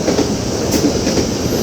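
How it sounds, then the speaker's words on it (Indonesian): The Malabar passenger train from Malang to Bandung rumbles past close by, loud and steady, with rolling wheel noise and faint rhythmic clacking on the rails. "Kereta api Malabar dari Malang menuju ke Bandung."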